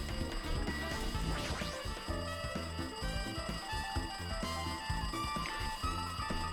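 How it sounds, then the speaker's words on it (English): A telephone ringing in Danganronpa 2, a steady electronic ring repeating throughout, mixed with busy game music and clattering effects at moderate volume. "It looks like that phone is ringing."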